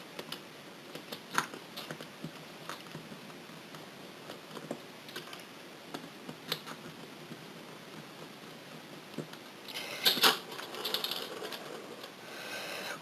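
A small screwdriver backs screws out of a PS Vita handheld console during disassembly, producing faint, close, scattered ticks and light clicks, with a brief louder scraping rattle near the end.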